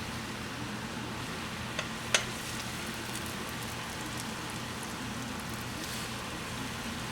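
Pholourie dough balls deep-frying in a pot of oil, a dense, even hiss like steady rain, with a couple of small sharp clicks early on and no speech.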